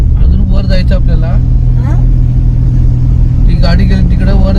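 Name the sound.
vehicle driving past on mountain road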